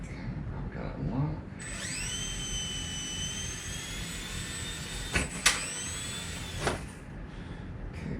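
A Blade 70 S micro RC helicopter spins up for takeoff, its rotor and motor whine rising to a steady high-pitched drone that shifts pitch a few times, close and continuous.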